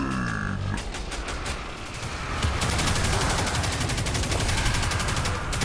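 Rapid, continuous automatic gunfire from an Arc-element gun in Destiny 2, a dense stream of shots that grows louder and fuller partway through, with sci-fi electrical effects layered over the bursts.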